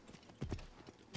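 Horse hooves clip-clop at a gallop in the Assassin's Creed Origins video game, a quick, soft, uneven patter of beats over a short stretch, faint and without talk.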